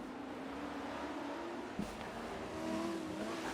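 Mercedes race cars at Le Mans, with a steady engine drone and rising tonal whine of cars circling the track at a distance, fairly even in level with a brief bump midway.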